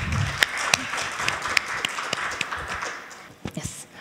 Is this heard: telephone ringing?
no